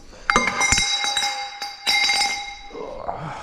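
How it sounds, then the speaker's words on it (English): Sleeve puller drawing a cylinder sleeve from an Allis Chalmers WD45 tractor engine, giving sharp metallic clinks and ringing pings in an irregular series of strikes, close and fairly loud, with a sustained metallic ring through most of it. "Got the sleeve puller in action right now."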